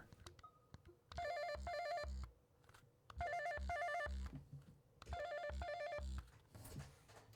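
A game controller's haptics mimic a phone ring, repeating three times in even bursts, each a rapid warbling double trill with a buzzy, mechanical edge, separated by short quiet gaps.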